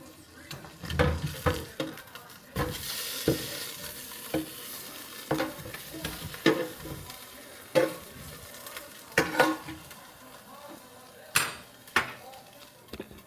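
Food turned over in a Ninja air fryer basket with tongs, a run of sharp scrapes and clacks spread through the clip over a faint steady sizzle, close by.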